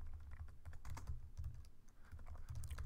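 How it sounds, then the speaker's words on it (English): Someone types on a computer keyboard, a quick, uneven run of soft key clicks and thumps that goes on steadily for a few seconds, close and fairly quiet. "Oops, my typing is not good."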